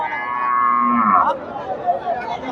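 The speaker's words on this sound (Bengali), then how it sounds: "এই যে এখানে একটা গাভী দেখতেছি" Cows lowing at the Chandaikona cattle market, a livestock fair where dairy cows are sold, with one long drawn-out moo rising then fading over a steady murmur of market crowd noise.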